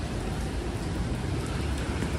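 Heavy rain pours steadily on a humid night in New York City, a dense, continuous wash of drops close by with no voices over it.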